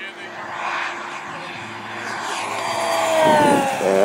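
Hangar 9 P-47D large-scale RC model warbird engine rising in pitch as it comes onto throttle during a flyby, a building drone that grows louder toward the end, with people talking over it.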